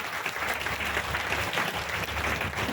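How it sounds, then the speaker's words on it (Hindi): An audience applauds a guest at a DXN gathering, a steady burst of dense clapping that fills the whole moment, close and loud, with no talking over it. "एक जोरदार ताली चाहिए सर के लिए।"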